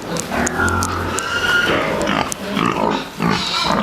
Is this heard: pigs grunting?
yes